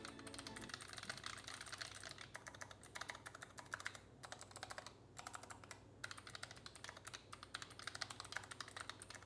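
Rapid clicky typing close up on a Royal Kludge RK925 foldable low-profile mechanical keyboard, a dense stream of sharp keystrokes with brief pauses, alone and fairly quiet.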